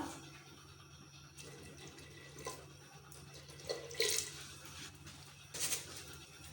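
Water is poured from a small jug onto lentils in a pot while making daal chawal, a faint, steady trickle with a few brighter splashy surges, heard close and quiet with no talking.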